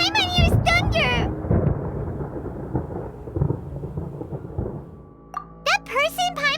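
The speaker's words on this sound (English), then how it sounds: "Paimon hears thunder!" Thunder rumbles in the Genshin Impact video game, a loud rolling crash that fades over a few seconds, framed by brief chirpy voice-like sounds at the start and end.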